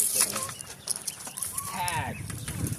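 Five backyard chickens cluck and squawk in short bursts close by, with rustling and background noise throughout.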